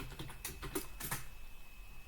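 Quiet, close keystrokes on a computer keyboard enter numbers into an Excel worksheet, a short burst of a few separate taps spaced irregularly over about two seconds.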